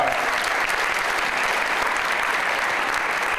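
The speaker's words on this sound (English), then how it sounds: "The County Executive Ed Mangano, let's give him a big round of applause" Steady, dense applause from an audience at a public event with a cardinal and a governor, sustained and fairly loud throughout with no clear break.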